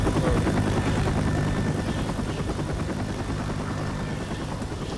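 The rescue helicopter in the video game Left 4 Dead 2 thumps with rapid rotor chop and a steady engine drone, loud and close throughout, with no speech.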